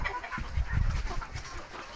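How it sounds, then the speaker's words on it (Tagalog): Chickens cluck and murmur softly in a steady low chatter, a small flock heard close by with no talking. "yung mga manok natin"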